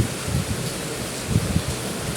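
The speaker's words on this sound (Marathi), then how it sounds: "फायनली मान्सून आलेला आहे कोकणामध्ये" Monsoon rain falls in the Konkan countryside around a house near a river, a soft, continuous hiss with faint low rumbles, steady and fairly distant with no voices.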